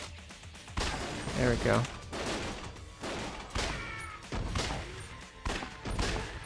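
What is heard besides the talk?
gunshots in video game Lost Judgment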